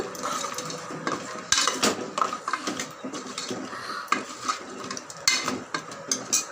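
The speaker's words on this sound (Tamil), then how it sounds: "கலந்து விட்டுக்கோங்க." Spoon stirring goat head curry in a metal pot after coconut and tomato paste are added, with repeated scraping and clinking against the pan in an uneven rhythm, close and clear, no talking.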